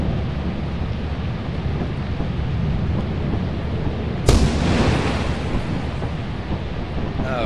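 A loud lightning strike cracks and booms mid-storm in the horror co-op game Lethal Company, a sharp burst rising over steady rain-like roar, then trailing into rumbling thunder.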